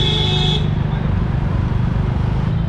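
Busy city street at night during Durga Puja, a dense rumble of cars and motorbikes with a short horn blast at the start, steady and close throughout.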